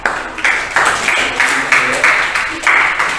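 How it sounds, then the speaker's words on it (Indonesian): A classroom of students claps in a steady rhythm for the first group, loud bursts of clapping in regular pulses, with some voices mixed in. "Berikan tepuk tangan untuk kelompok pertama."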